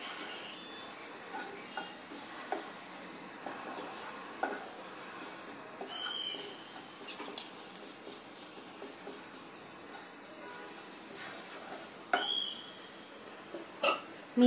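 Dry spices sautéing in a pan: a soft, faint, continuous sizzle with light stirring scrapes and occasional small clicks of a spoon against the pan.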